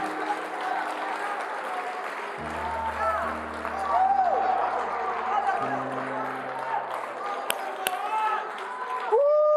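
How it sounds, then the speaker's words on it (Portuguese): A church congregation applauds the Lord at a Brazilian worship service, a steady wash of clapping that fills the room, with sustained music, cheering voices and a deep low tone running underneath throughout. "Aplauda mais uma vez o Senhor"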